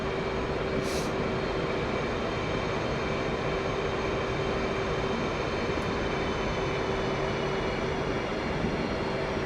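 An F/A-18C jet in flight in DCS World, a steady, loud engine roar with a constant droning hum that holds unbroken throughout.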